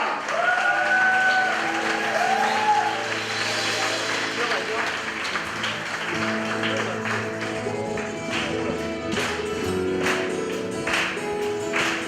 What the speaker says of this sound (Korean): 우리가 할 수 있는 최고의 환호와 박수로 주님께 올려드리겠습니다